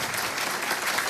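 Audience applause at a Middle East books panel, a brief, even burst of many hands clapping in a room, with no speech over it.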